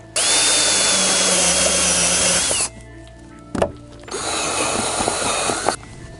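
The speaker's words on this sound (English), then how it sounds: "I'm gonna drill one last hole right here" Power drill boring a hole during a car battery relocation kit install, two loud sustained bursts of high whine separated by a short pause with a clunk, close up with no talking.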